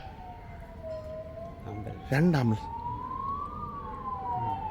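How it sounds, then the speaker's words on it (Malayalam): A fire engine's wailing siren rises and falls as it passes at a distance, with a brief horn-like blare midway and a short spoken word. "ഫയർ എഞ്ചിൻ പോകുന്നു എവിടെയോ തീ എത്തിയിട്ടുണ്ട്"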